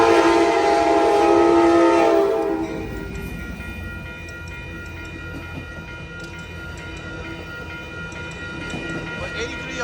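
Amtrak F59PHI locomotive of the Capital Corridor, fitted with a 2010 replacement horn, sounding a loud chord close by in Oakland, then rumbling past as the cars clatter along the rails beneath a commentator's voice.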